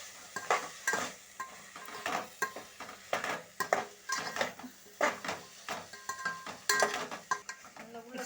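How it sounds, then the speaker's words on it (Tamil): Bitter gourd with tomato, onion and garlic is sautéed in a pan, heard mostly as a spatula scraping and knocking against the metal in uneven bursts over a faint, quiet sizzle. No voices. "அதுக்கப்புறம் பாவக்காய் போட்டு கொஞ்சம் லேசாக பச்சை வாசனை போகிற வரைக்கும் வதக்கணும்"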